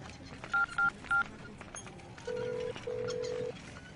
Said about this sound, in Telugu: ఒక ఫోన్ చేసుకోవాలన్నా.